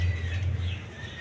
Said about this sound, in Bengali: দেখেন অরিজিনাল ইন্ডিয়ান বোম্বাই কবুতর